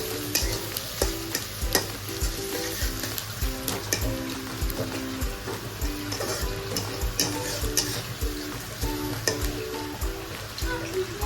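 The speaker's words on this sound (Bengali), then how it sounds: "তো চলো পেঁয়াজটা ভাজা হোক" Onions frying for biryani give a steady, close sizzle with busy crackling, along with periodic stirring scrapes in a pan, and no voices.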